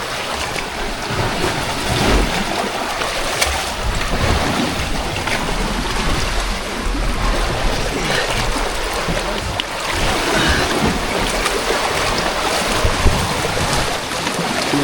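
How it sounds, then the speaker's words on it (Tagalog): A small boat rocks among strong waves near a small island, with broadband water rush and wind buffeting the microphone steadily and loudly throughout, no talk. "Malakas yung alon."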